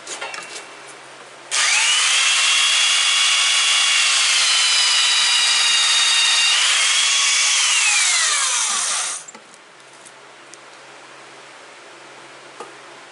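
A power sander works a wooden piece down during a precision machining job, a loud, steady whirring grind that starts abruptly, holds for about seven seconds, then cuts off, leaving quiet room tone.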